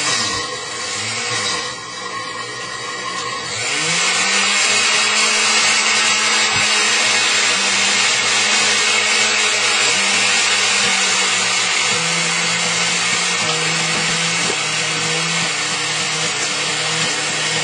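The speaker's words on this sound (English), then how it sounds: "What's happening now is, see here, the blender? It's starting to mix." Blender whirs loudly as it mixes chocolate with honey and oil, starting in uneven bursts and then settling into a sustained, strained grinding drone.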